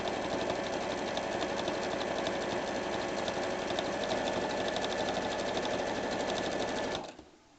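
A sewing machine stitches a quarter-inch seam on a quilt-as-you-go strip quilt, a steady fast whirring hum with rapid needle clatter running continuously for about seven seconds before stopping abruptly, close and alone.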